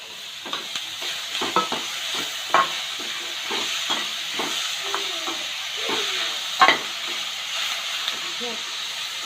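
Onions and tomatoes sauté in a pan with a soft continuous sizzle, punctuated by repeated spoon clicks and stirring scrapes, close by; a voice speaks briefly.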